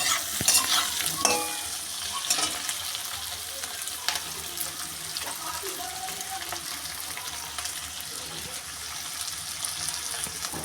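Large-cut onions and chopped green chillies stir-frying for chilli chicken, a moderate sizzle with scraping and clattering stirs, louder at the start and continuing steadily.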